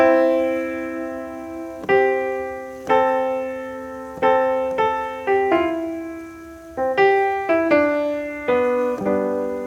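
Clean, consonant chords on a keyboard, struck one after another in a slow, uneven rhythm, each ringing out and decaying before the next.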